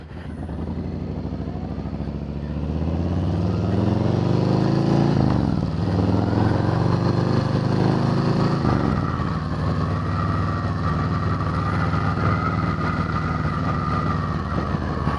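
A 2020 Harley-Davidson Softail Standard motorcycle engine rumbles steadily and close while riding, its low drone rising in pitch as the bike pulls away, with no talking over it.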